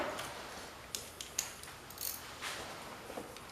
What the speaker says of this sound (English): Grab my ratchets.